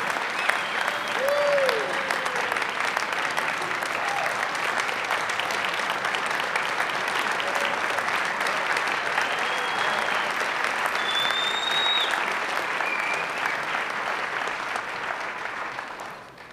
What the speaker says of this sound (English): So where's my applause? Thunderous applause.